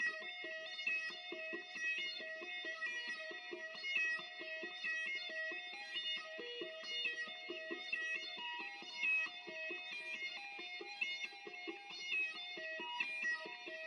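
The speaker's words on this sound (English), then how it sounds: "So this is what rhythm guitar sounds like." Steady rhythm guitar for a pluggnb track with a wah-style filtered tone, repeating chords in a tight, even pattern, played alone without any voices.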